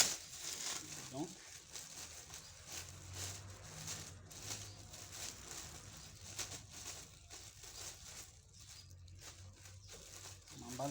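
A thin plastic sock bag crinkles and rustles softly as it is wrapped around a polo shirt at a dry-cleaning pressing counter, quiet and close with intermittent crumpling bursts.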